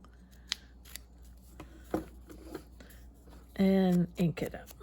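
Scissors snip paper while trimming a folded foldout folder for a journal, a few crisp close cuts with soft paper handling between and a brief burst of talk near the end.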